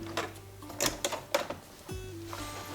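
Sewing machine stitching in the ditch on a trouser waistband, short mechanical bursts and clicks with a low motor hum, close and moderately quiet, no talking.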